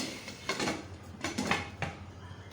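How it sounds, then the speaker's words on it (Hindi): A metal lid set onto a cooking pot of mutton masala gravy, several clinking, scraping knocks of metal against metal over a few seconds, fairly close and alone. "और लिड दे दें"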